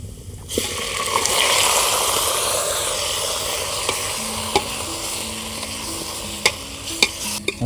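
Onions frying in a pan over an outdoor wood stove, with a steady sizzle and occasional sharp clinks and scrapes of stirring, close and continuous.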